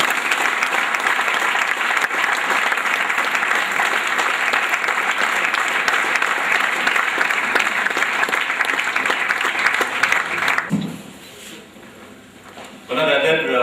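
Audience at a college award ceremony applauds steadily as a gold medal is presented, a dense, even clapping that continues for about ten seconds, then drops away briefly before a short burst resumes near the end.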